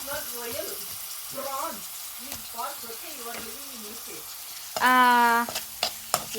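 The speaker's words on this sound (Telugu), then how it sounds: "ఇప్పుడు మనం కడిగి పెట్టుకున్న రొయ్యల్ని ఇలా వేసుకోవాలన్నమాట" Washed prawns dropped into a hot pan for an okra and prawn curry, a loud sudden sizzle breaking out near the end and following a stretch of chirpy background sounds, with clattering and a voice alongside.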